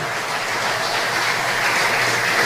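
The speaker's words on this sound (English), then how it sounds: "Another round of applause for Cynthia Therese Gab-Gill." An audience at a patriots' tribute ceremony applauds, a dense, sustained wash of many hands clapping without talk.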